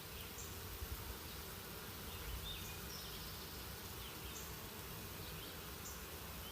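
Honey bees fan their wings at the entrance of a newly installed nucleus hive, making a steady, dense buzzing drone that stays faint and even throughout, with no voices.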